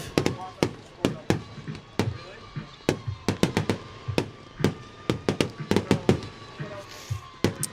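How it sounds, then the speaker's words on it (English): Fireworks burst over a high school football game between Barnesville and Osakis in September. Sharp, loud cracks and booms fire in a rapid, irregular barrage close by, with many bursts overlapping and no pause. "Let's go ahead and take a look at what's coming up here for these two teams as the fireworks go off."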